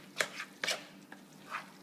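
Diced ham being stirred into a pot of chili, producing a few close, soft wet scrapes and clunks spaced irregularly, with no voices.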